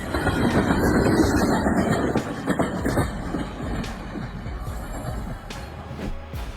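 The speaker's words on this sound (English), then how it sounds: "Have you ever seen a train that doesn't run on tracks?" A train passes close by, loud rolling rumble and clickety-clack of wheels that gradually eases and fades over several seconds.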